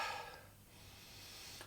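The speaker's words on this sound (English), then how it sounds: "when I sniff this" A single close, quiet breathy sniff drawn in through the nose over the aroma of a glass of Anchor Strong beer, followed by soft breathing.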